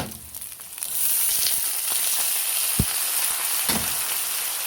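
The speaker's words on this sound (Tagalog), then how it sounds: "pwede na natin ilagay yung ating toge" Bean sprouts hit a hot frying pan for ginisang toge with tofu, and a loud steady sizzle builds and holds. A few dull knocks of the spatula come through close up, with no voices.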